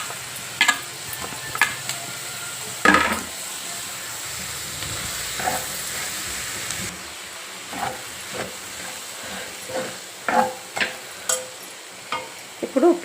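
Steady hissing sizzle of cut ridge gourd pieces frying with soaked moong dal and curry leaves, broken by sharp scraping clicks of a spoon stirring in the pan at irregular intervals.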